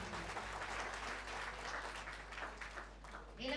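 Audience clapping loudly for a brother being honoured, a steady dense wash of handclaps running throughout at moderate distance.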